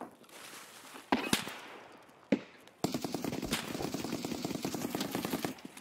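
Shooter video game gunfire: a few sharp isolated shots, then a sustained rapid automatic burst with distinct repeated cracks, fairly quiet in the mix, with no talk.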